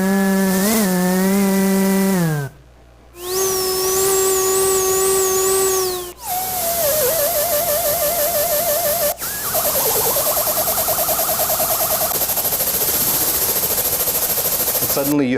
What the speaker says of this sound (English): going from bird to chainsaw to helicopter.